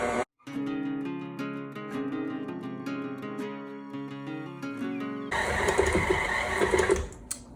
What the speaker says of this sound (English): just mix it until the dough forms a ball